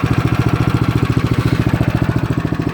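A Craftsman snowblower engine runs steadily nearby, its small-engine putter loud and evenly pulsing with a rapid regular firing rhythm throughout, with no voices.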